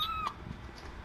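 Tiny kitten with a runny nose giving one short high meow at close range, followed by quiet room sound.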